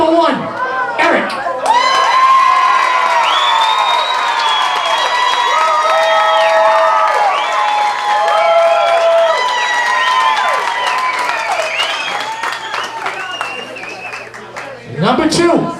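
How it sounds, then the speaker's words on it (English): Audience at a festival singing contest clapping, cheering and whooping loudly for a contestant, a dense sustained crowd roar with shouts lasting about fifteen seconds before fading. "Only clap for the guy that you think should win this thing"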